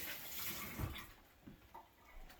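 Running water from a tap splashes steadily over hands at a kitchen sink, close and moderately loud, with brief heavier splashes partway through and no talking.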